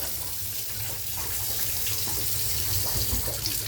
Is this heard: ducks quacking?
no